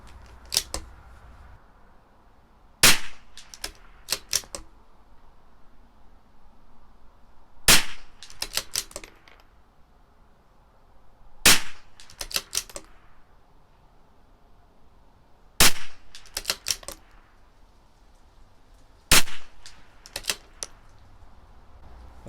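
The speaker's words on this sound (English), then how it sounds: "we're going to shoot the right bottom corner of that square." A CZ 457 rifle with an IBI barrel fires Norma Match-22 .22 ammunition at a 100-yard target, each sharp crack coming in small clusters of three or four with pauses between, loud and close.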